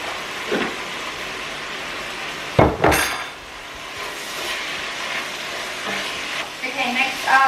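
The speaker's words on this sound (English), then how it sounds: "we'll give that a stir." Chilli con carne sizzling in a pan and stirred, a steady fry hiss with a sharp scrape-and-clatter burst of stirring midway, plus a few lighter knocks near the end.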